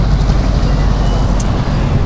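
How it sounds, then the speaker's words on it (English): Steady local street traffic in the Chapalita neighborhood, a constant low rumble of passing cars and vehicles with no single engine standing out, heard near and continuous. "You hear only local street traffic."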